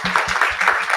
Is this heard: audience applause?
yes